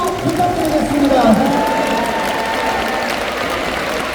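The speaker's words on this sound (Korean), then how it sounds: "여러분들 다시 한번 뜨거운 환영의 박수 부탁드리겠습니다." Audience applause for flags brought on stage at a Korean church denomination's 45th anniversary assembly, a steady broadband patter sustained throughout under a sustained tonal hum and faint voices.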